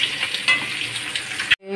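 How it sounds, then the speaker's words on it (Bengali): An egg coated in salt and turmeric sizzles in a hot frying pan, a close and steady crackling hiss that cuts off abruptly near the end. "ডিমটা নুন হলুদ দিয়ে দিয়েছি, নুন হলুদ দিয়ে এই যে গরম ভেজে নিচ্ছি লাল লাল করে"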